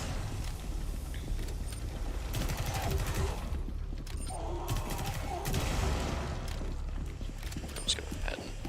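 Gunfire in the Rainbow Six Extraction video game as a player shoots monsters, with rapid bursts of shots and clattering action over a busy, loud game soundscape.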